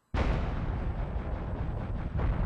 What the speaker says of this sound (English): This is actually probably one of the best explosion animations